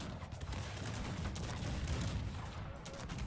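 Dense, rolling bursts of cannon grapeshot and musket fire crackle continuously in the battle game Cossacks 3, with faint talk underneath.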